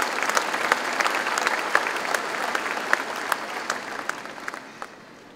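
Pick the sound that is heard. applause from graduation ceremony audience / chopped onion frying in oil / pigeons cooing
applause from graduation ceremony audience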